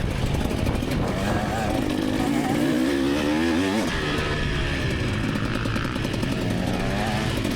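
Trail motorcycles ride past nearby, their engines revving in rising and falling sweeps with a harsh buzzing tone that swells and fades as the bikes move along the trail.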